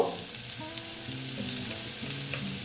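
Cumin powder being fried with Malabar spinach in a pan, a steady close sizzle that holds for the whole stretch, with light stirring scrapes over it.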